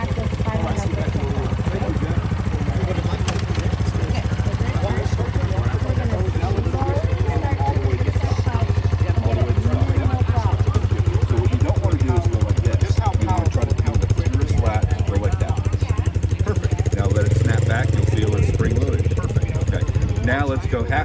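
A motorcycle engine at a Motorcycle Safety Foundation riding course in Austin, Texas, fires up in first gear and runs steadily at a low, loud throb through the whole stretch, with an instructor talking over it.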